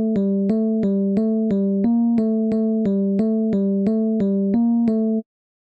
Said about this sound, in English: I use electric keyboard from DirectWave.